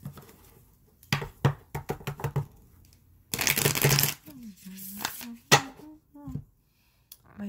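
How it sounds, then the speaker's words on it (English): A tarot card deck is shuffled in quick riffling bursts and taps, including one dense flutter of cards, while someone speaks in between. "This deck is not wanting to shuffle at all."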